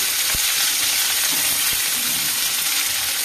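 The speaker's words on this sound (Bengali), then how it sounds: "তেলটা গরম হয়ে গেছে, পেঁয়াজটা দিয়ে দিলাম, টমেটোটা দিয়ে দিলাম" Chopped onion and tomato fry in hot oil with a loud, steady sizzle, broken by a couple of sharp knocks from stirring.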